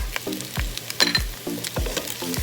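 Onion frying and being stirred into pork adobo with garlic, a steady close sizzle broken by repeated scraping strokes of a spoon against the pan, no talking.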